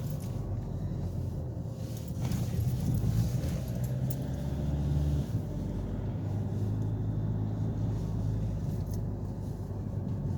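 A car driving slowly down a narrow old street by a seawall, a steady low engine and road rumble close by, swelling briefly in the middle of the clip with a faint metallic jingle.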